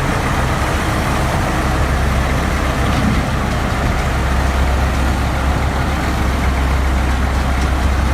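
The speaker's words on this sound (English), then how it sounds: "This Volvo 6x6 having engine power from 200 to 300 horsepower is passing through a very thin path" A Volvo 6x6 logging truck with a 200–300 horsepower engine grinds slowly along a very narrow path, its heavy diesel rumbling loud and close in a steady drone with no talk over it.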